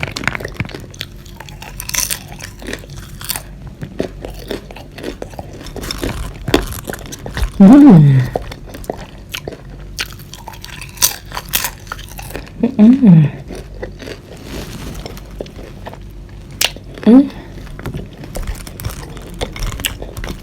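Homemade popcorn is chewed and crunched close to the microphone, with a steady run of crisp bites and a few short vocal murmurs in between.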